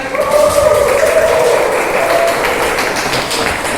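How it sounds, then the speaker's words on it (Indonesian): Students in a classroom clap for a classmate, loud and close, with an adult voice speaking briefly over the even patter. "Beri tepuk tangan."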